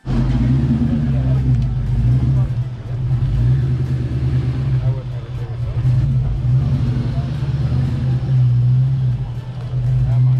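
A Ford Fox body Mustang with a loud exhaust rumbles steadily nearby, a deep continuous drone that swells and eases slightly across the stretch, with faint crowd chatter under it.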